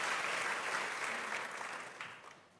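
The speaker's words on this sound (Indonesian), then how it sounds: "Berikan tepuk tangan yang meriah buat Tuhan." Applause from a church congregation during a revival service in Kupang, a dense wash of clapping that starts strong and slowly fades over a few seconds.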